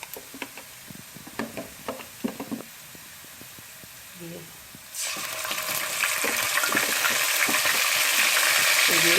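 Garlic-ginger paste hits hot oil with star anise, cloves and green cardamom for an aloo matar pulao, bursting into a loud, steady sizzle halfway through after a few quieter clinks and stirs.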